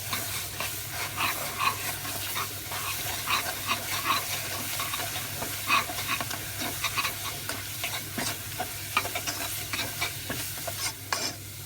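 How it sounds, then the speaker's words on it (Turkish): Pepper paste and tomato paste fry in a pot for tomato soup with a constant low sizzle. A spoon stirs them in repeated scraping strokes throughout, close by and with no talking. "Bunları da bir güzel kavuracağız."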